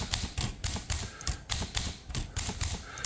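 Smith Corona Skyriter portable typewriter being typed on, a rapid, irregular series of crisp mechanical key strikes and clacks, close and loud, with no voices.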